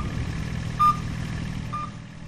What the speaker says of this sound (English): The forward drive and platform lowering alarms sound like this.